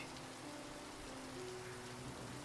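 Steady rain pouring down, heard as a soft, continuous hiss that stays faint and even throughout, with a low tonal hum underneath and no voices.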